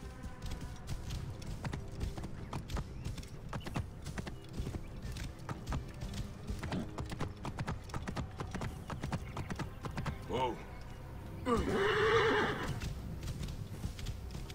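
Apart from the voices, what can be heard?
horse galloping and neighing in Assassin's Creed Origins video game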